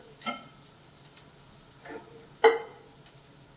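Heavy cream poured into a hot pan of caramelized ingredients gives a few short sizzling bursts, with the loudest one near the middle, spread over a quiet, sparse background.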